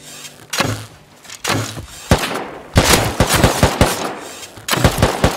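Video game gunshots, loud and close, arriving as separate sharp shots and then a quick rapid burst of automatic fire, with gaps between volleys.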